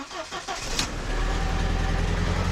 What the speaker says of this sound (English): let's check out and see how the car runs first